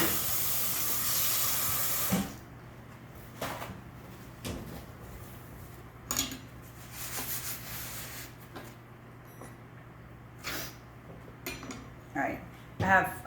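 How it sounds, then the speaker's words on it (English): A protein waffle cooks in a waffle maker, starting with a loud steady steam hiss. It then drops to quiet kitchen sounds with scattered clinks and rubs, and speech is faintly present. "I'm gonna let that last waffle cook"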